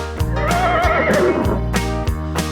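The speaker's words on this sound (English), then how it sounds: "the horses go as they gallop around the farm" A horse on a farm gives a loud, close whinny with a shaky, falling pitch. It stands alone over a steady background.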